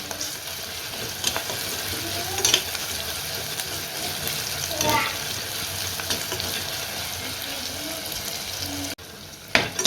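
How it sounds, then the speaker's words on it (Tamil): Onions and curry leaves being sautéed in a pan for a village-style anchovy fish curry, with steady sizzling and frying hiss and occasional stirring scrapes, close and continuous, followed by a brief louder clatter at the end. "இப்போ அதை சேர்த்து நல்லா வந்து வதக்கி விட்டுக்கலாம்"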